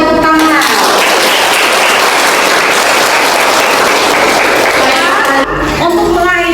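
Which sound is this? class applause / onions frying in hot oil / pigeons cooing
class applause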